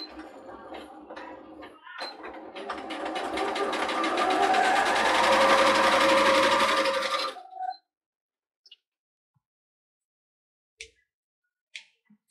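Sewing machine stitching fabric pieces for a sunglasses case: a close, rapid mechanical whirring run of about five seconds that ends sharply, followed by silence with a few light clicks and handling taps.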